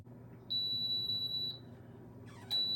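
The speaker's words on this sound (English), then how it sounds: "So the oven is beeping, indicating that it's ready" A PYD Life mini sublimation oven beeps when preheated: a steady high electronic tone holds for about a second, stops, then sounds again near the end, clear and close over a low background hum.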